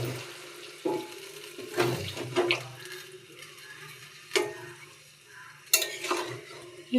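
A little water poured into a pan of ginger-mustard paste while cooking Malabar spinach chorchori, giving soft splashing and sizzling with a few sharper clinks of stirring, close and moderately quiet.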